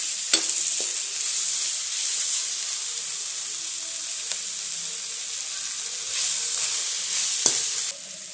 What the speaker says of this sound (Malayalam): ഇഞ്ചി, വെളുത്തുള്ളി ചതച്ചത് ഇട്ട് കൊടുക്കാവേ. നല്ലപോലെ ഇളക്കി കൊടുക്കാം.